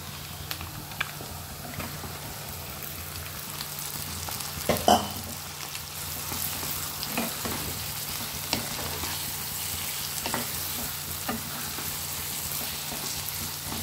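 Chicken pieces fry with lightly browned onions in a pan, a steady close sizzle running throughout with a few brief clatters from stirring and no voices.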